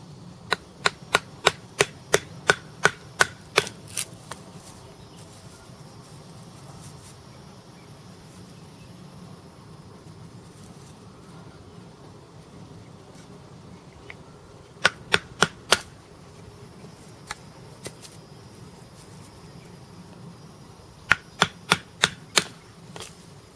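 Sharp knife strikes chopping wood, probably a Schrade 56LM fixed blade, come in three quick rhythmic bursts of about six to eight hits each, separated by quiet pauses, with no talk.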